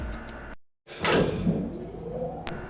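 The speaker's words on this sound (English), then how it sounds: "And the door is slid shut." An elevator's sliding door in the video game Danganronpa glides shut, a short whooshing slide after a moment of silence, followed by a faint click.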